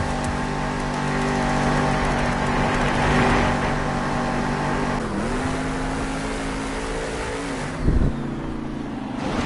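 Grave Digger monster truck roaring through a timed stadium run in Anaheim, a loud, sustained engine drone with rising and falling revs and a brief thump near the end.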